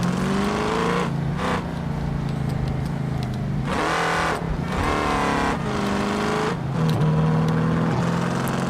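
A car in a racing video game accelerates hard, its engine whine climbing and dropping through gear changes as continuous game music and effects play along.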